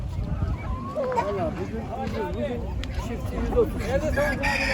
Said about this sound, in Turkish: Bir çift yabani ördek var.